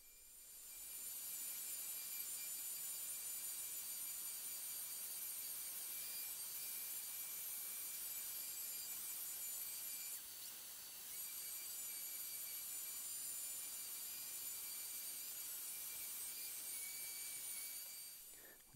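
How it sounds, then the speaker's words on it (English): Continuous whirring of a power sander with 60-grit paper on wooden bookshelf shelves, a steady high-pitched motor hum with grinding underneath, pausing briefly midway before resuming. "each of the shelves and the ends will get sanding with a 60 grit"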